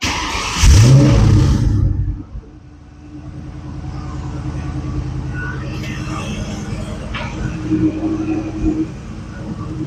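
Vehicle engine on a farm machine turns over and catches after a firewall-mounted clutch adjustment, then settles into a steady running drone that rises slightly as it pulls away, loud and close.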